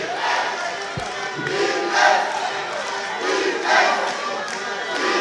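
A basketball arena crowd at a Grenada versus Surinam FIBA AmeriCup pre-qualifier game chants 'defense' in a steady, loud, rhythmic roar, the two-beat swells repeating over a constant background of crowd noise.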